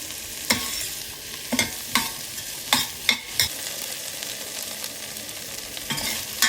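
Onions and vegetables sautéing in butter in a pan, with a constant sizzle and repeated sharp stirring scrapes at an irregular rhythm, close and fairly loud, with no talking.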